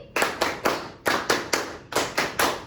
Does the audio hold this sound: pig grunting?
no